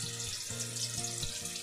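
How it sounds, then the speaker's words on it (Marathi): Marinated katla fish pieces fry in hot oil in a pan on a gas stove, giving a steady close sizzle with a faint low hum beneath it throughout. "त्यामध्ये तेल टाकून मच्छी फ्राय करू"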